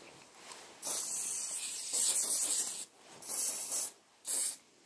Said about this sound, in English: I've actually got a bit of hairspray I've got to put on here just to finish off.